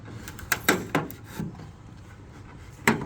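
3D printed tailgate clips on a first-generation Dodge truck snap into place against the trim, giving a handful of sharp, close plastic clicks, several in quick succession early on and one more near the end, over quiet background.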